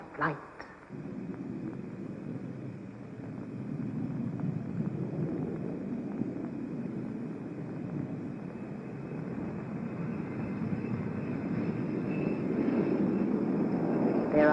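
A late-1960s Allegheny Airlines airliner's engines drone steadily and build gradually in a broad low roar that swells toward the end, heard from inside or nearby with no voices over it.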